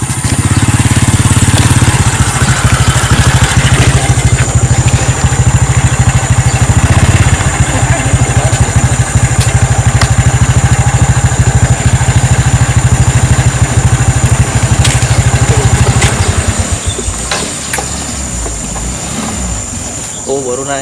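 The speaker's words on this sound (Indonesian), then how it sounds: "Jadi kita nunggu motor kita dinaikkan ya." A motorcycle engine idles loudly and steadily while being loaded onto a boat, a low drone lasting most of the time before dropping away near the end, with clattering and faint voices around it.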